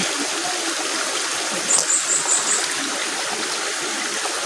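A flowing stream of water runs steadily with a broad trickling wash throughout, constant and fairly close, with a brief splashy swell midway.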